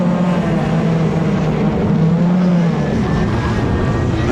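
Formula Ford single-seater race cars circle a track, a continuous loud engine drone with a steady low-pitched tone and slight pitch shifts as the cars pass, heard alone without talk.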